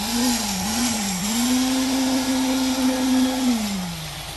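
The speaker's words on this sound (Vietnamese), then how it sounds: "Rồi mạnh dạn bóp cháy máy dùi luôn ơi." A concrete poker vibrator driven at full throttle while pouring a pile foundation, a loud, close, steady engine whine that wavers slightly in pitch and eases off at the end.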